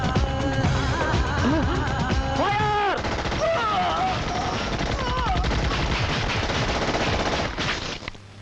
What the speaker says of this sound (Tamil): எதுக்கு ஃபயர் பண்ண?